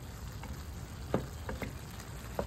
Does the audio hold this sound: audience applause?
no